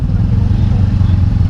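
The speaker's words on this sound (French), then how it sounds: "J'ai commencé à rétrograder en fait." Motorcycle engine on an A2 licence training bike, downshifting during practice, a steady low rumble that fills the whole moment at close range without clear rev changes.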